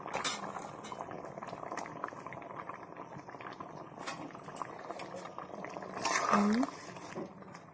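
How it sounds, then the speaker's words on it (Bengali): Fish curry bubbles at a rolling boil in a covered pot, a dense continuous close burble with occasional light clinks of utensils and a brief louder swell near the end. "তো বন্ধুরা দেখুন, তরকারি আমার ফুটছে।"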